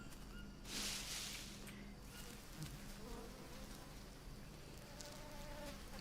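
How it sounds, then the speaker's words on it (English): Insects buzz steadily through a jungle setting in the survival game Green Hell at evening, a faint continuous drone with a brief louder hiss early on. "Do you hear the bugs?"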